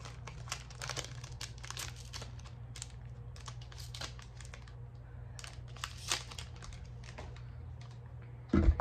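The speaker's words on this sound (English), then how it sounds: "These packs are a lot easier to open." A Pokemon 151 booster pack crinkles and crackles in quick irregular bursts as the foil wrapper is handled and torn open close by, ending in a louder rustle.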